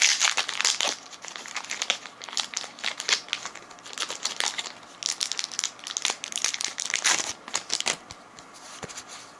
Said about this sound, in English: I just have to open the packs first